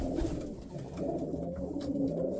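A chestnut-colored pigeon coos in a pigeon loft, its low throaty calls repeating steadily and close, with soft rustling in the background.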